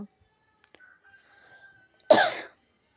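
A single short, sharp cough breaks an otherwise quiet indoor room, close and fairly loud.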